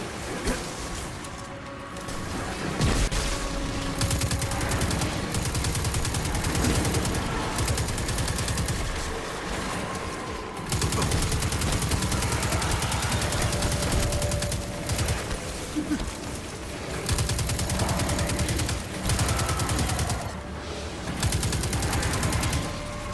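An auto rifle firing in the Destiny 2 video game during a Warmind mission, bursts of automatic fire layered over game effects and combat noise across a long stretch, pausing briefly between volleys.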